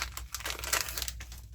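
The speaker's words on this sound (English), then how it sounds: "Sorry for the noise of the paper." Close, crackly crinkling of paper being handled, in irregular bursts with no talking.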